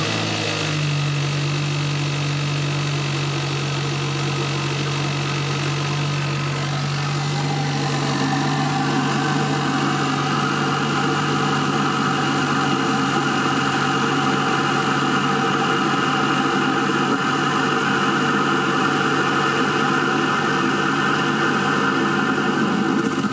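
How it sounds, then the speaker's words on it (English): Hyundai Elantra GT N Line with a Takeda cold air intake starting cold, a short cranking catch then a steady idle hum with intake whoosh that rises slightly and holds. "here's a sound from a cold start"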